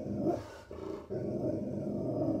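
A dog growls low and close in a continuous rumbling snarl, broken by a brief pause, with no talking.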